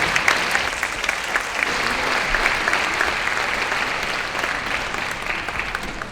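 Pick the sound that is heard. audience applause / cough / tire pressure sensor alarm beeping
audience applause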